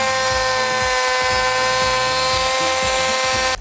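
A router trimming about a millimetre off the edge of a wooden board whines loudly and steadily at close range, a continuous high-pitched motor drone with no pauses until it cuts off at the end.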